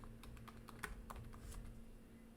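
Keys tap on a computer keyboard as a headline is typed, a quick irregular run of light clicks, close but quiet, over a low steady hum.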